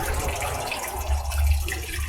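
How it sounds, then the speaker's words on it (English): Water swirled around a gold pan holding gravel concentrates, a steady close sloshing and gurgling wash with a soft low rumble and no talking. "cycling the water around, and the gravels, the concentrates around, and exposing the gold"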